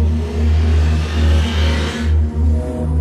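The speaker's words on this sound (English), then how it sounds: "with a slight vibration in your bones and four-stroke soundtrack following behind" A Husqvarna 250 four-stroke motorcycle engine revs up and down in smooth swells, a deep steady throb with rising and falling pitch, loud and close, then a slight drop at the end.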